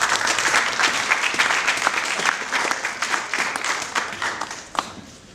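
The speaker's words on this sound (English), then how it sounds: "Let's give a round of applause to Nick." A room of presentation attendees breaks into warm applause for a speaker, dense clapping that holds steady and then fades away over a few seconds.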